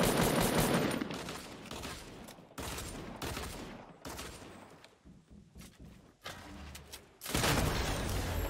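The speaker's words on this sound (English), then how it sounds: "Shoot him as fast as you can when he moves." Video game gunfire comes in rapid automatic bursts, loud at first, then thinning into scattered shots and quieter stretches before a final heavy burst.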